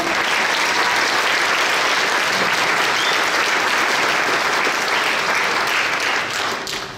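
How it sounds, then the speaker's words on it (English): Sustained applause from an audience at a school winter band concert, steady and full for several seconds before tapering slightly at the end. "how about another round of applause for our soloists, Claire Epperson, Lauren Kramer, Alex Camero"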